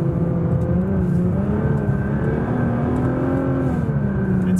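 A Nissan R35 GT-R drives along a snowy road with a cleared centre and snow-banked sides, its engine a loud, steady drone with slight rises in pitch and continuous road noise throughout.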